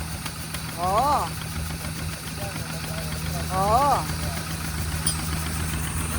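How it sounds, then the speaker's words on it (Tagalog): A farm engine runs loudly with a steady low exhaust rumble throughout, while a nearby voice calls out briefly over it twice. "Kita nyo yung tambutso niya guys, oh, malakas pa oh."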